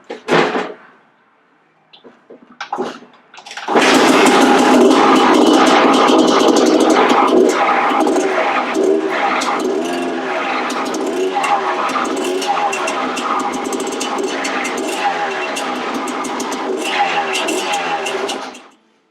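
A 2000 Honda CR250 two-stroke dirt bike with a new top end and replated cylinder, heard through a few kick attempts and then firing up loud and close, idling and revving steadily at a raspy high pitch.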